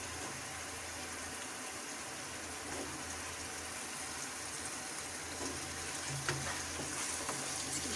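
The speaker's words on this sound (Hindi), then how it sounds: "आलू और टमाटर की अच्छी सी भुनाई कर लें।" Potatoes and tomatoes frying in a pan for a dhaba-style achari aloo baingan, a continuous soft sizzle with occasional stirring clinks and scrapes, fairly quiet and close, no talking.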